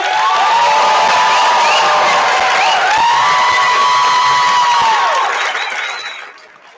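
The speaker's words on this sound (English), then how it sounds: "Let's give them one more round of applause." Audience at a fourth grade musical giving the performers applause, a loud sustained wash of clapping with cheers and high whoops over it, holding steady for several seconds before tapering off at the end.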